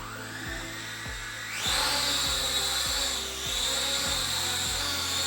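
A Heygelo S90 budget drone with brushed motors flies indoors, giving a steady high motor whine that rises in pitch and loudness partway through as it lifts off, with a regular low pulsing under it.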